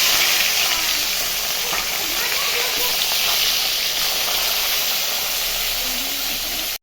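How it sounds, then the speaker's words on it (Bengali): Fish fries in oil in a pan, producing a continuous, even sizzle and hiss that holds steady at close range until it cuts off abruptly. "আরও মাছগুলো আছে, ভেজে নিচ্ছি।"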